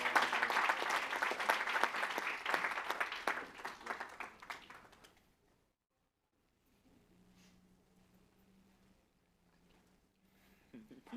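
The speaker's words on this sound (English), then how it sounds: "Another round of applause for such an amazing set of teams." Audience applause for competing teams at a climate solutions pitch finals event: dense clapping fills the first five seconds and then fades out, followed by near silence with a faint hum and a brief noise at the end.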